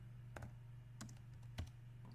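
Keystrokes on a computer keyboard while building an e-commerce web page in HTML, CSS and JavaScript: a few separate soft clicks spread across about two seconds over a steady low hum, with no voices.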